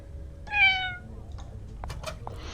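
A cat meows once in a video game, a single clear near call standing alone, followed by a few faint clicks and soft background noise.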